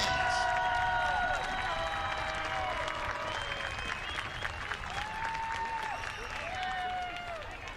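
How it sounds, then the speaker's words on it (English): Stands full of fans applaud the seniors at an Arlington High School football game against Collierville, broad sustained clapping heard from within the crowd, with a voice and tonal whistle-like sounds rising over it. "Give these boys a round of applause."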